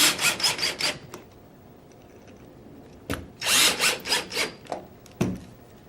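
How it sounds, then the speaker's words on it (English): A drill with a Phillips bit drives screws into a paintball gun grip frame, giving short bursts of buzzing rotation separated by quiet pauses, close and fairly loud. "we'll switch back to our Phillips head bit. And we'll go ahead and put our front grip screw and our grip frame screw back in place."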